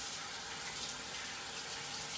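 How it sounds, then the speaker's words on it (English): Water runs steadily from a kitchen sink tap during handwashing in a home kitchen, a continuous close hiss with no talking. "Let me wash my hands."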